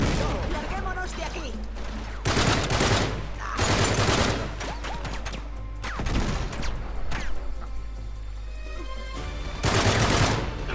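Rapid bursts of gunfire from a shielded enemy in Uncharted 3, loud and repeated in clustered volleys across the stretch, mixed with other game noise and occasional voices.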